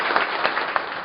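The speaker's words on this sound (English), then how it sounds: "let's give him a big round of applause" A town hall audience claps steadily, dense applause from a crowd filling the whole brief moment with no voices over it.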